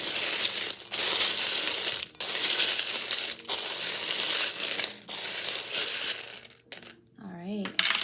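Many small metal charms rattle and clatter continuously in a bucket, loud and close, with brief pauses as they are stirred and shaken.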